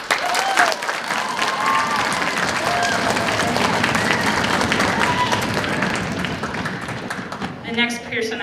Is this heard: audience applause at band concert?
yes